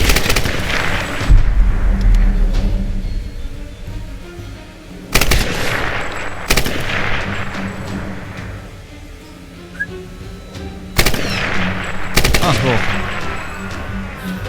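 Rifle gunfire from the 2013 Tomb Raider video game sounds as bursts of sharp shots over game ambience. The shots come in several clustered volleys across the span, loud and close, with someone talking at times.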